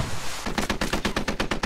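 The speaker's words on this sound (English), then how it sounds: "HMG strafe in the field." A heavy machine gun in the Squad Ops shooter game strafes in rapid sustained bursts, around a dozen loud, evenly spaced booming shots following a brief lead-in of background noise.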